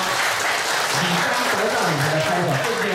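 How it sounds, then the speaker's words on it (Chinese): An audience at a lecture session claps together in a dense, sustained round of applause, steady and fairly distant, with faint voices underneath. "所以你来给他拍手"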